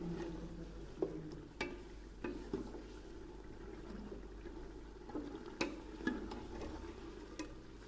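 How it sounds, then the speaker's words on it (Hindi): Mutton gravy roasting in a pot on high flame for bhuna gosht, a faint low sizzle under occasional sharp clicks and scrapes of a spoon stirring the meat. "और अब हम इसकी तकरीबन भुनाई करेंगे हाई फ्लेम पर, जिससे हमारी ग्रेवी अच्छी हो जाए।"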